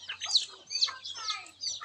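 Hens and chicks in a home courtyard give short, repeated clucks and high peeping chirps in a quick, uneven series, fairly close and without talk.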